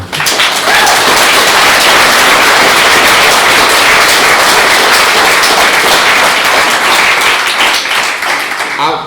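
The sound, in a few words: round of applause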